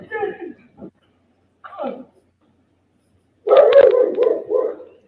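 A dog barks on a played-back recording: a few short barks, a pause, then a longer burst of yelping, howling barks.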